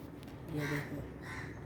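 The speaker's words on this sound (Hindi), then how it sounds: "कौवे बोलने लगे" Crows caw at dawn as day breaks, two hoarse calls coming close together over a steady background hum, with a voice speaking nearby.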